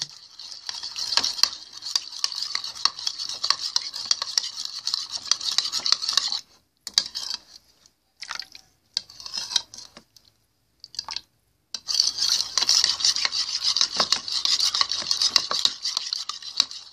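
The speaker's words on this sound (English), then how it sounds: "And stir the lotion up very good." Thick lotion being stirred in a bowl, giving close, wet, squishy clicking strokes in quick succession, then a stretch of broken pauses before steady stirring resumes.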